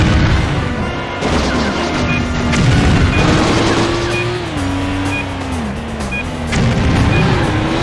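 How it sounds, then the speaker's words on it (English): An explosion in the 2002 PlayStation 2 stunt-driving game Stuntman booms amid a continuous loud roar of a car engine that rises and falls in pitch, with scattered crashes and bursts across the scene. "Get close to the explosion."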